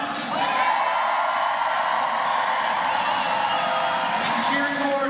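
Crowd cheering for Team Homan at a curling final, a sustained roar of whoops and yells from a packed arena, steady and fairly distant throughout.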